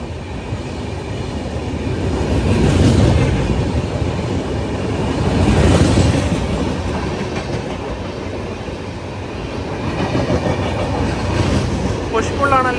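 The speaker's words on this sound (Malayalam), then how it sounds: "ലിംഗംപള്ളി വിശാഖപട്ടണം ജന്മഭൂമി എക്സ്പ്രസ് ആണിത്." Lingampalli-Visakhapatnam Janmabhoomi Express rumbling past up close, a steady roar of rolling wagons with swelling and fading surges and faint clickety-clack, continuous throughout.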